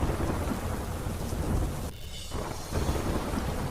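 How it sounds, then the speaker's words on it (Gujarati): Heavy monsoon rain pours steadily in Valsad with rolling thunder, a dense continuous roar of rainfall that briefly dips before swelling back. "વલસાડમાં ખાબક્યો ધોધમાર વરસાદ."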